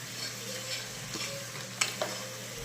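Spice paste of ground coriander leaves sautéing in a pan with salt and turmeric, a steady low sizzle with a few soft scraping stirs and light clinks, no talking.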